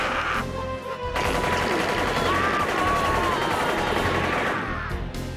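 Rapid anime gunfire fills the whole stretch: dense, loud bursts of shots rattling continuously, with a brief dip near the start, over a busy dramatic soundtrack and voices.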